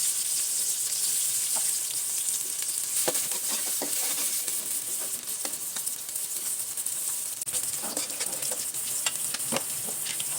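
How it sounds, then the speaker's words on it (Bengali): Onions frying in oil in a cooking pot, a constant bright close sizzle with scattered pops and scrapes over its length, no one speaking. "তা এখন পরিমাণ মতো তেল দিয়ে পেঁয়াজটাকে ভেজে নেব।"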